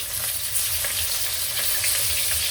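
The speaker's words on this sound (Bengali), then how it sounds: "বেশ কড়া করে ভাজলাম।" Fish frying crisply in hot oil, a dense, steady crackling sizzle with fine popping, close and loud throughout with no talking.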